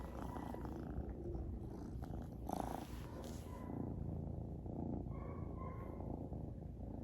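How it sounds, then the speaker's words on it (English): A small kitten purring close up, a low continuous rumbling that stays steady, with light rustling noises and no talking. "I know you could hear that purring"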